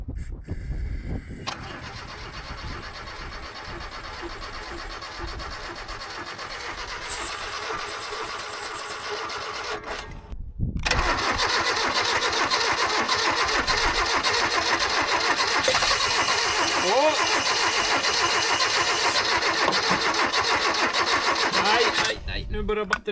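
Old Volvo abandoned for 31 years cranked and started on starting fluid: starter grinding, then the engine catches and runs loud with revving, under voices talking.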